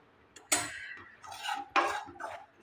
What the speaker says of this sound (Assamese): ঘি দি আৰু 1 মিনিট সময় এইদৰে মই ইয়াতে ভাজি ল'ম।